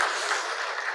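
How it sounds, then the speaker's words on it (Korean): Congregation applauding in a church after a sermon passage, a steady dense wash of many hands clapping together, sustained and even throughout with no voices over it. "자, 이때 박수 한번 하겠습니다."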